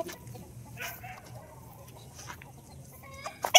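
Gamecock roosters at a game farm give scattered short clucks and calls against a quiet background, ending in a sharper, louder burst.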